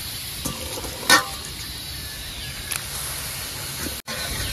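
Cleaned octopus cooking in a pot makes a steady, moderately loud sizzling hiss with a brief sharper flare partway through and a momentary dropout near the end.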